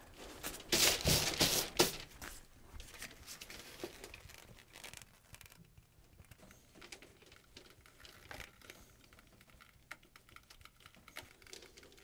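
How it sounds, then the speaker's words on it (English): Vapor barrier tape being pulled and applied over a seam during radon work, with a loud crinkling, tearing burst early on, then quieter intermittent rustling and pats of the tape being pressed down. "I'm going to tape it with some vapor barrier tape"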